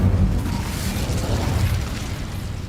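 Hogwarts Legacy Incendio fire spell being cast: a continuous roaring, crackling burst of flame with a heavy low rumble, fairly loud and sustained for under three seconds, with no voices.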